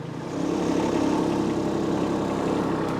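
A Kubota B2601 compact tractor engine runs at a steady, close drone while moving a bush, holding an even low rumble with no talk.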